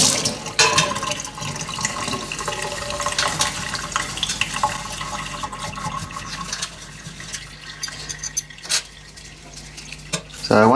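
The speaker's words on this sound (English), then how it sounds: "We'll go and give this a rinse and scrub it up with the steel wool" Zinc-plated metal part being rinsed under running water and scrubbed with steel wool, a continuous watery rush with rough scratching and splashing throughout, close and moderately loud.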